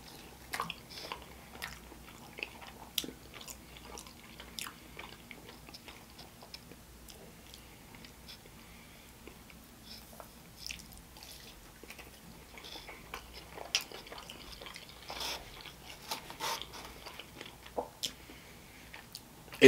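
Someone eating a Little Caesars Crazy Calzony with crazy sauce: quiet, irregular bites and soft chewing clicks, close to the microphone, growing a little busier toward the end, with no talk.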